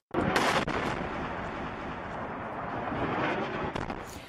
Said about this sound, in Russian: кадры авиаудара 2 900-килограммовыми бомбами по банку ИГИЛ в иракском городе Мосул